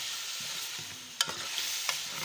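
Beef liver fries in oil with a paste of green chili and onion, giving a steady soft sizzle broken by a couple of sharp spatula scrapes and clinks against the pan.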